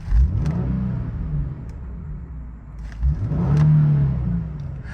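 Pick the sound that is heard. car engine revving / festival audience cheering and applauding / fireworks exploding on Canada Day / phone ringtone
car engine revving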